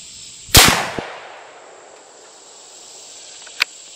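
A Ruger American .308 rifle fires Norma Whitetail ammunition at a 100-yard range: one loud sharp shot with a decaying echo, a brief knock, then a second distant crack a few seconds later.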